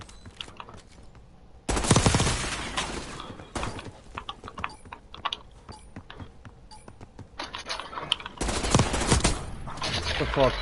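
Gunfire rattles through a Call of Duty match: loud machine-gun bursts break out in two heavy volleys, with scattered single shots and quieter firing between them.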